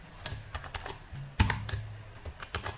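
Quiet, close typing of Python code on a computer keyboard: a short, irregular patter of key clicks with one heavier keystroke partway through.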